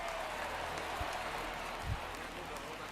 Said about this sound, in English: Every play is like an insane amount of applause.